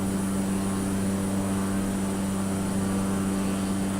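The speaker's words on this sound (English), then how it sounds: "Nice morning takeoff." Cessna 208 single-turboprop aircraft taking off in Microsoft Flight Simulator, its engine a steady, loud droning hum with a strong low tone that holds unchanged throughout, with no voices.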